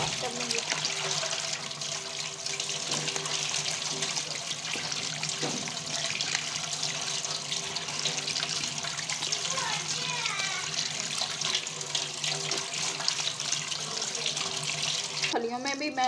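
Tap water runs steadily into a kitchen sink as raw chicken is washed for a gawar phali gosht curry, a continuous close splashing stream with someone talking over it.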